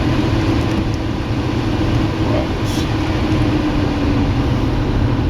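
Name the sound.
electric fan running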